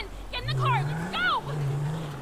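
A car engine hums steadily in GTA 5, a low droning tone that rises slightly in pitch and stays close, mostly beneath a voice speaking over it.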